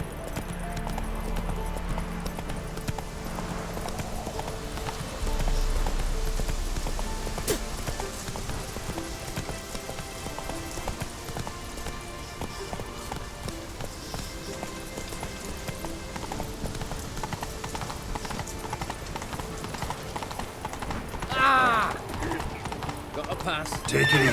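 Roach, a horse in The Witcher 3, gallops with steady rhythmic clip-clop hoofbeats running throughout, layered over game music and ambience, with occasional voices speaking.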